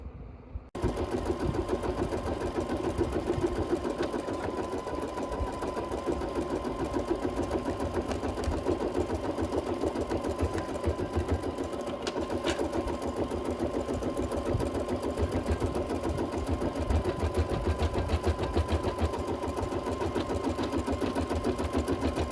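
An embroidery machine stitching through a noisy hoop runs steadily with a fast, even mechanical whir and rattle throughout, close and continuous, with no talk.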